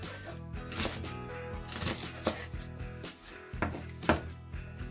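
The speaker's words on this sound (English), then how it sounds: "I'm just going to simply slice them lengthwise again" A kitchen knife slices leeks lengthwise on a board, giving a run of crisp, close chopping strokes in an uneven rhythm, each cut a sharp tap.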